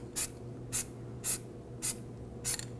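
Short squirts of anti-seize spray during front brake work on a 2006-2009 Audi S4 4.2L V8, five brief hissing bursts evenly spaced about half a second apart, close up over a low steady background hum.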